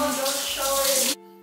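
Water runs steadily from a bathroom tap in a bedroom, a loud continuous rush that stops abruptly near the end, leaving a faint hum.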